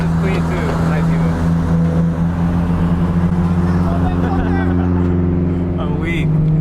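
Car cruising along the Pacific Coast Highway at night, a steady low engine drone and road rumble heard from inside the cabin, with people talking over it.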